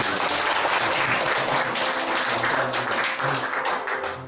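An audience at a church gathering breaks into loud applause, many hands clapping densely and continuously before it tapers slightly at the end.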